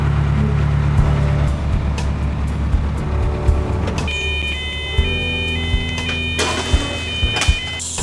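A narrowboat engine runs steadily on a canal, a low continuous throb close by with a few sharp knocks and a faint high whine coming in partway through.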